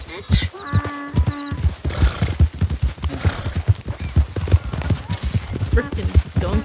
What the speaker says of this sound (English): Frickin' donkeys are skittish as all hell.